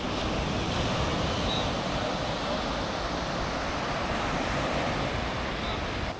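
Ocean surf rolls onto Copacabana beach in Rio, a steady broadband wash of waves with wind buffeting the microphone, no clear voices.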